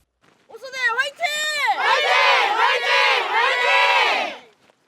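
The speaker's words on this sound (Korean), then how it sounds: "또 다른 쪽에서도 구호가 터져 나옵니다." Military academy cadets on a march shout a loud group rallying chant, a rising collective cry that swells and holds for several seconds before fading.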